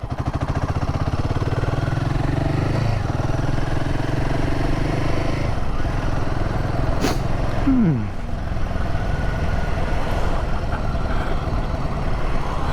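A 2024 Royal Enfield Himalayan 450 motorcycle rides along, its engine a steady close drone with heavy wind rush over the whole stretch and a brief shift in pitch midway.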